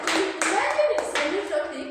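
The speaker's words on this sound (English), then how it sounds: "Clap for her." A classroom of students claps during a lesson, giving several quick bursts of applause separated by brief pauses, close and fairly loud, with a few voices mixed in.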